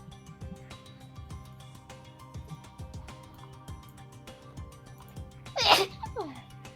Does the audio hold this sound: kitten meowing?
no